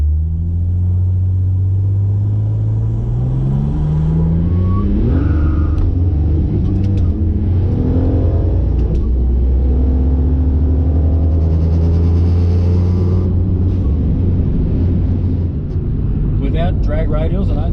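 Ford Falcon XR6 Turbo on street tyres launching and accelerating hard on a road, engine note rising steadily through the revs in a loud close-up cabin rumble, with a gear change near the end and a voice talking over it.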